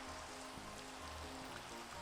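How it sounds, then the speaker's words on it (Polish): Steady rain in a Minecraft-style game world, a dense continuous hiss of falling drops with low tonal music underneath, unbroken and even for the whole stretch, with no talking. "Pada deszcz"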